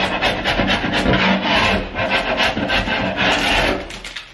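A really sharp chisel scrapes old paint off hardwood in a 1925 house, giving a close, loud, continuous rasping with repeated strokes and no talk.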